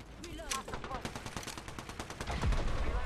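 Rapid automatic gunfire in the battle-royale shooter Apex Legends, dense bursts of shots with a brief voice early on, a fast rattling volley filling the few seconds at close range.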